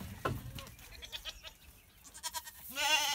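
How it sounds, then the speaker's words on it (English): Goats in a pen bleating, a few wavering cries near and farther off, fairly faint, with a louder bleat at the end. "More goats over there."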